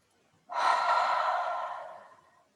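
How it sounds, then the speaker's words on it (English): Slow, deep breath drawn in during a guided relaxation exercise, a close, breathy airy rush that swells and then fades gradually, heard alone in a quiet room. "Breathe in and out."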